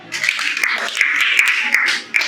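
Classroom students clap for a girl who answered, a dense patter of many hands close by, steady for about two seconds with a brief dip near the end.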